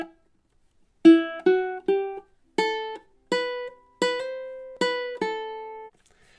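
Ukulele picks out a short melodic phrase with syncopated rhythm, about ten clear plucked notes ringing in a steady, close, moderately loud line, with no voice over it.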